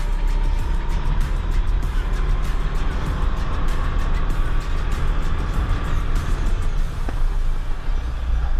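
Karting Grand Prix race with several karts overtaking, a steady loud engine roar and road rumble close up without a break, with no talking.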